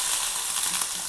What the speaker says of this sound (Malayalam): എണ്ണ കാഞ്ഞിട്ടുണ്ട്. നമുക്കേ ഇതിലേക്ക് അല്പം കടുകിട്ട് കൊടുക്കാം.